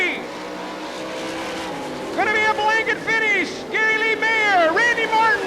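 360 sprint cars racing at the Knoxville Nationals, their engines roaring and rising in pitch as they pass, loud and close, heard under a race announcer's continuous commentary.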